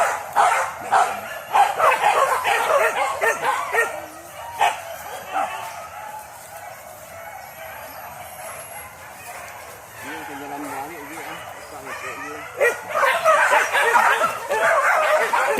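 Hunting dogs bark and yip excitedly during a wild boar hunt on a hillside, repeated bursts rising and falling, some close and some farther off, with people talking intermittently.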